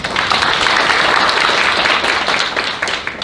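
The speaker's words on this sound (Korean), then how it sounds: "박수를 모시겠습니다." An audience at a National Assembly forum on the post-COVID era and the Green New Deal bursts into loud, dense applause that continues steadily throughout.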